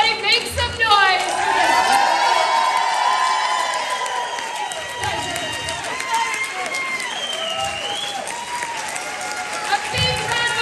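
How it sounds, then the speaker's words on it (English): A convention crowd claps and cheers steadily throughout, with whoops and shouts rising over the applause, loud and close, with some children's voices mixed in. "A big round of applause up here."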